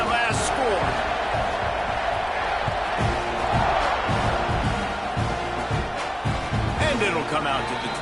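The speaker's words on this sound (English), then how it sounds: "this crowd is buzzing after that last score" A football stadium crowd buzzes steadily after a touchdown, a dense, loud, continuous roar of many voices with scattered shouts and cheers, and an announcer's voice talking over it throughout.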